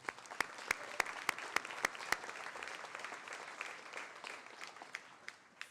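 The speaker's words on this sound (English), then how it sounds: "So a round of applause for everybody in this room." Audience applause at a university honors college spring graduation ceremony, a steady even patter of many hands with several sharper nearby claps standing out, moderately distant in a large room.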